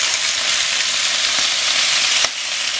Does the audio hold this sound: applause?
no